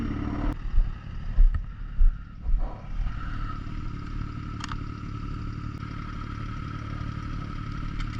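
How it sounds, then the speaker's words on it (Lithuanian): A motorcycle in Vilnius idles with a steady low engine rumble, with a few clunks and clatters near the start before the idle settles and carries on evenly. "Šiandien ir Mantė važiuos pirmą kartą gyvenime savo su motociklu per Vilnių."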